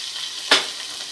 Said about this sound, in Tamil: அந்த இஞ்சி பூண்டு பச்சை வாசனை போகிற வரைக்கும் வதக்கினா போதும்